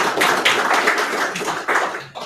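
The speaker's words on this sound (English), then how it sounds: "See, people love cats. Always gets a clap." An audience at a CharmCityJS JavaScript talk breaks into a short round of clapping, a dense, steady patter of many hands that fades out after about two seconds.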